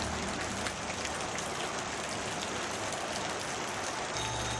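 Heavy rain pours steadily and loudly, a dense continuous hiss of drops drumming on surfaces with no break, close and enveloping.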